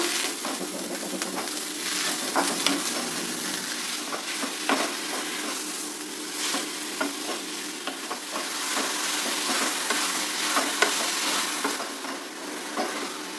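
Sweet kadubu filling of grated coconut and jaggery stirred and roasted in a pan, with a steady soft sizzle and repeated scraping strokes of a spoon throughout, close and continuous, no voices.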